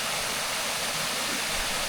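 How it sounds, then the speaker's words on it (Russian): Along a roadside cliff on a cycling route between Yakutsk and Magadan, a small waterfall rushes down in a steady, dense hiss of splashing water, close and continuous with no talking. "Ну вот на этом прижиме течет такой вот водопадик."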